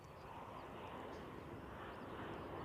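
A Ryanair airliner at Edinburgh Airport produces a continuous, fairly distant jet engine roar, an even wash of broadband noise lasting the whole moment.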